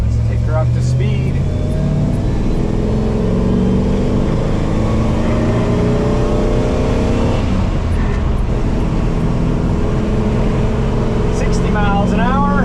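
A 1977 Toyota Land Cruiser FJ40, an old off-roader, drones steadily from inside the cabin as it builds toward highway speed. The engine note is continuous and close, with a broad low rumble and wind noise.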